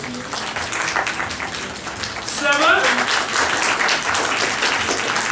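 An audience at a comedy improv show claps on cue, soft patter that swells louder partway through as a host speaks over it.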